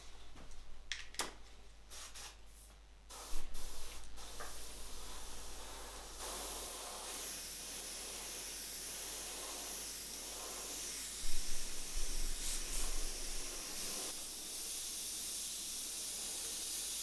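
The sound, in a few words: spray painting clear coat onto a bicycle frame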